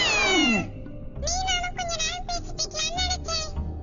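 A cartoon kitten meows in a string of high, repeated mews, loud and close, after a brief falling cry at the start.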